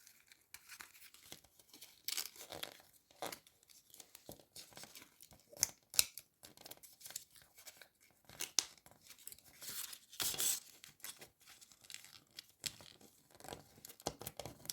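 Quiet, close snips and crinkles come in irregular bursts as scissors trim tape on a garment, with rustling in between.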